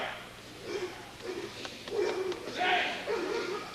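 An American Pit Bull Terrier named Buck gives a few soft, scattered barks and yips, fairly faint and spaced over a few seconds.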